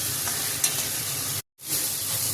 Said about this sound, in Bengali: ওই মাছটা দিয়ে একটু ভালো করে কষিয়ে তারপরে ঝোল দেবো